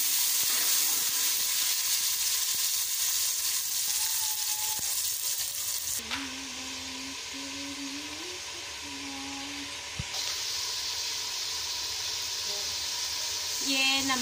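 Chopped tomatoes hit a pan of browned onions frying with green chilli, garlic and ginger, setting off a steady close sizzle and hiss that shifts in tone as they land and are stirred, with no talking.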